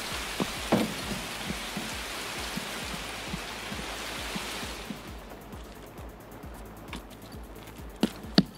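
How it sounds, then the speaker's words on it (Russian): Rain in Escape from Tarkov hisses steadily, then fades and softens about halfway through, over a low rhythmic patter of footsteps and a few sharp clicks near the end, with no voices. "Ох, летит тут у вас дождик."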